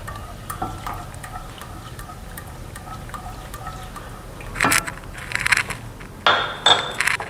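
Spoon stirring yogurt into chole masala gravy in a pan, soft scraping and clinking against the metal, growing louder and more rhythmic in the final seconds over a faint background hum.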